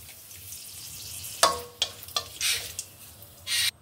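Greens stir-fried and tempered in a hot pan, with a few sharp sizzling bursts and scraping stirs rising over a quiet background, no voices.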